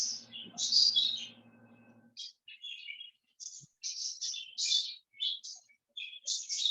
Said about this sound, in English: so are those birds chirping?